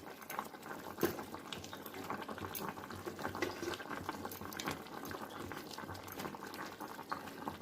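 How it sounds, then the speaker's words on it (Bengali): Fish curry broth with potatoes bubbling at a steady boil in a pot, a continuous dense burble of small pops and gurgles, close and fairly loud, with no voices. "ঝোলটা ফুটে গেছে, আলু সেদ্ধ হয়ে গেছে।"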